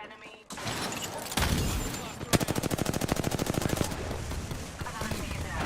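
Video game gunfire, a sustained loud rattling burst of rapid automatic shots in an even rhythm, with other heavy firing around it and in-game voices over the action.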